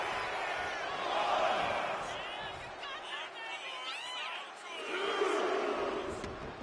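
A wrestling video game crowd roars and cheers in a sustained arena swell, rising and falling, with a commentator talking over it.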